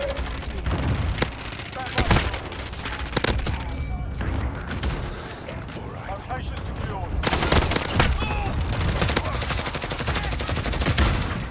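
Dual pistols fire rapidly in a Modern Warfare hardpoint match, loud cracking shots in quick bursts layered with other gunfire and booms across the battlefield.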